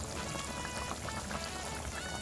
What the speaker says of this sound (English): So I'm about to pour it in.